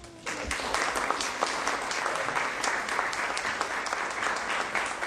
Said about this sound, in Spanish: Les pido un caluroso aplauso.